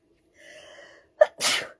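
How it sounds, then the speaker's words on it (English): A single sneeze, close and sudden: a drawn-in breath, a sharp catch, then an explosive burst, with nothing else around it. "I'm going to sneeze."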